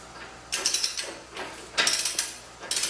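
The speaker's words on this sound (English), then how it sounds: "You got your torque wrench set to your right torque spec." Ratcheting torque wrench tightening the rear axle nut on a Honda VT750 Shadow motorcycle: three short bursts of rapid clicking, close and fairly loud, separated by brief pauses.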